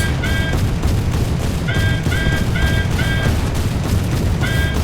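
Naval gunfire in the War Thunder video game: repeated heavy booming cannon shots in a rapid fusillade, with beeping tones in between, loud and continuous.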